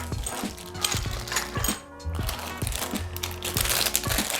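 Small plastic bags holding CPU cooler mounting hardware, washers, spacers and screws, crinkle and rustle up close as they are handled during an unboxing, with scattered light clicks and taps of parts, no speech.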